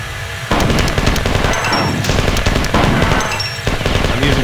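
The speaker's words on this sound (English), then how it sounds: "I'm using assault rifles because we've got assault rifle ammo here." Rapid, loud assault rifle fire from the video game Marathon 2 Durandal, sustained automatic bursts hammering almost continuously with brief gaps, heard alone with no talk.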